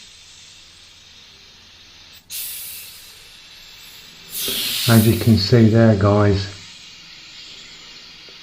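Short hiss of a Richpen 112A airbrush with a 0.2 mm nozzle spraying paint, then a longer steady spray burst that someone talks over, close and fairly loud.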